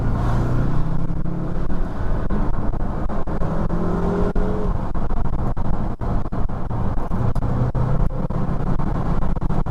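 A BMW M5 F10 accelerates hard in a tunnel, its engine roaring loud and steady with rising pitch sweeps as it revs through the gears, close and echoing, with no talking.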